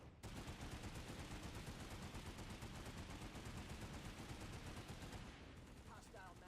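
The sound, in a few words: burst of gunfire from a video game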